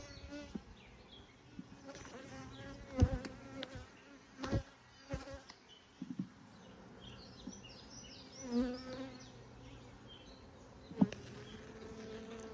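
Honey bees buzz around an open hive on a bee farm, a close, continuous droning hum with individual bees zipping near and away, punctuated by occasional clicks and handling knocks.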